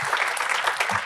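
Conference debate audience applauding, a dense burst of clapping from many hands, loud and continuous throughout the short stretch.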